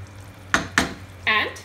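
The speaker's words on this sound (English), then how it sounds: "Mix it nicely." A spoon strikes a pan of frying eggplant curry twice, two sharp scraping knocks, then a brief ringing metallic scrape follows over a low background hum.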